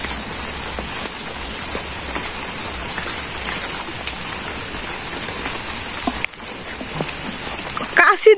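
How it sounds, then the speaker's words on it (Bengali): Light rain pattering steadily on surfaces outdoors in a village, an even hiss of drops close by for several seconds, with brief louder knocks near the end. "তেমন বৃষ্টি না, হালকা বৃষ্টি।"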